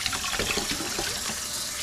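Cold tap water runs steadily into a sink to rinse bags of cured salmon eggs, a constant close splashing stream with no talk.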